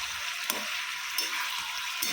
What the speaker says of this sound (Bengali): তো এখানে কাঁকরোল ভাজাটা আস্তে আস্তে হচ্ছে